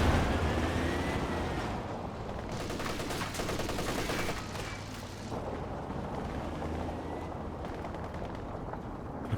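An MG-34 machine gun rattles in a Company of Heroes 2 battle, rapid bursts mixed with other gunfire and distant explosions, a dense continuous battlefield din with no voices.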